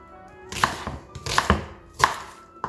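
Knife chopping vegetables on a cutting board for stock, three close, crisp bursts of quick blade strikes with short gaps between.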